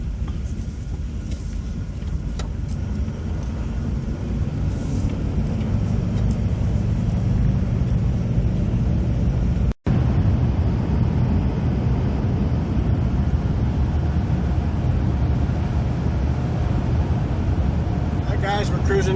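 A 1964 Ford Thunderbird cruising on the road at 65 mph, a steady low engine and road rumble with wind noise throughout, a brief dropout near the middle, and a voice talking over it.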